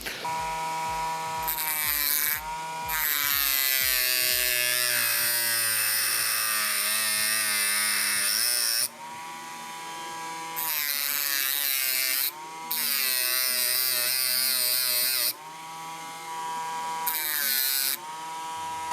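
A Worcraft CEMG-S20Li cordless engraver cuts into a metal bolt with a loud, high, buzzing whine. It comes in bursts broken by short pauses, starting with a few quick stuttering pulses before longer grinding runs.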